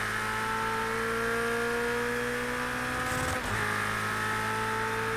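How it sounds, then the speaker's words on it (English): A Ferrari 488 GTE racing car in a racing sim video game drones at high, steady revs as its engine hits an early rev limiter, with a brief stutter and dip in the tone midway before the loud, sustained note resumes. "rev limiter thing way before the rev limiter actually kicks in"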